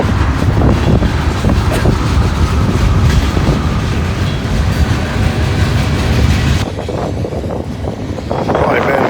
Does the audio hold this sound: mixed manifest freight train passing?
yes